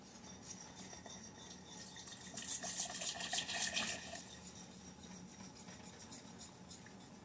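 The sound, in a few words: hot water being poured into gravy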